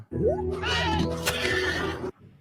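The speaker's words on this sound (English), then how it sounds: "The horse neighs, which is hilarious." A horse gives one loud, close whinny that rises and then trembles, lasting about two seconds before it cuts off abruptly.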